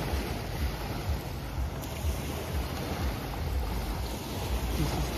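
Steady wind and lapping waves on the Lake Ontario shore at a Mississauga lakeshore park, a constant broadband rush with wind buffeting the microphone throughout.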